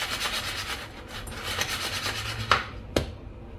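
Crisp, dry crunching and rasping bites of fried potato pakoras, with a couple of sharper cracks near the end, close up and with no talking.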